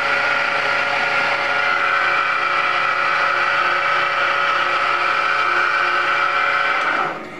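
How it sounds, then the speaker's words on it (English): An Acme Rol dough sheeter runs steadily with its belt rubbing on the pulley, giving a continuous loud whirring mechanical drone with no talk, easing off right at the end. "most of that noise you hear is from the belt"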